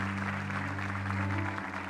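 A church congregation claps together in a dense, steady patter, with a low sustained hum beneath the applause.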